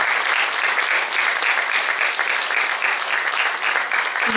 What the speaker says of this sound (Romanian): pe care îl rog să-l aplaudați de pe sufletul